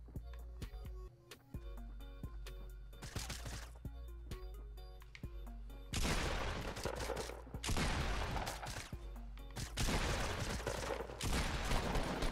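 Gunfire in the video game Fortnite Battle Royale, heard as rapid bursts of sharp shots crackling over background game sounds, growing denser and louder in the second half.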